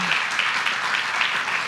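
Steady, fairly soft clapping fills a city council chamber for the Robo Pirates team, an even crowd patter without pauses over the short stretch.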